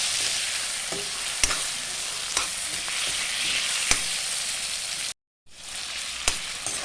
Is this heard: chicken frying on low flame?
yes